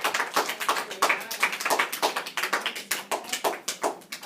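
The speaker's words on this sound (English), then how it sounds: "Give her a round of applause." An audience at a presentation gives a round of applause: uneven, fairly close hand claps in a quick irregular patter lasting several seconds, with no talk over them.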